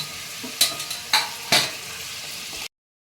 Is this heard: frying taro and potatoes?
yes